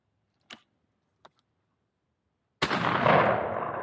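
A single loud shotgun blast fired at a clay target outdoors, booming in suddenly near the end and ringing out, after two faint clicks in near silence.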